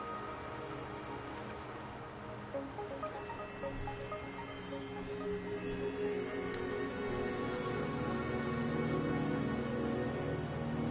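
Steady rain falls across a scene in the Wuthering Waves video game, a dense continuous patter of drops with faint ticks, holding at an even moderate level and growing slightly louder toward the end, with no voices.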